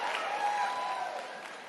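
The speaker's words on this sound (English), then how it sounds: "why y'all stop clapping?" Audience applause at a stand-up comedy show: a full, steady wash of clapping from the crowd, faintly mixed with voices and tapering slightly toward the end.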